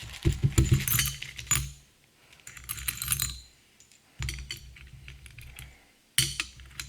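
Loose new metal bolts clink and jangle while being unboxed for a John Deere MC crawler repair, several bursts of bright rattling separated by short pauses, close and clear with no talking.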